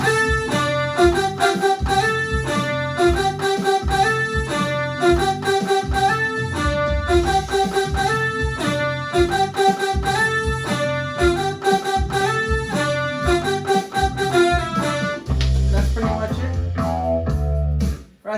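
Keyboard plays a synth-pop intro riff, bright repeating chords over a steady pulsing bass line, loud and continuous with no talking, the riff breaking into a lower pattern near the end.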